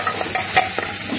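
Garlic fries in a pan for fish curry, with a steady broadband sizzle and a few soft stirring scrapes. The sound is close and loud, and no one speaks.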